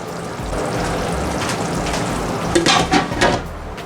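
Leftover roast lamb biryani simmers on low heat, giving a soft, steady bubbling with a few light clinks of a utensil against the pot near the end.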